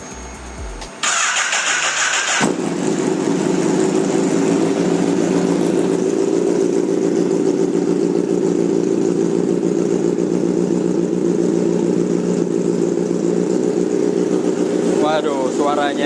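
A Red Bull-liveried Honda CBR1000RR motorcycle engine cranks and catches, then settles into a loud, close, steady roar that runs on continuously.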